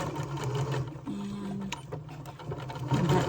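A sewing machine stitches closed the opening of a fabric elf doll, its rapid mechanical whir running steadily and close over the whole stretch with no talking.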